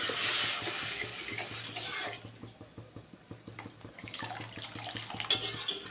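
Water is poured into a pot of fried spices for a cauliflower curry, a rushing splash for about two seconds, then soft rhythmic stirring and light clinks, close and with no talking.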